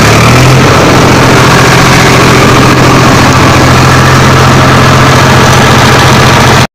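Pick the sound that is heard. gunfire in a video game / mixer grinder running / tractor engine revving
tractor engine revving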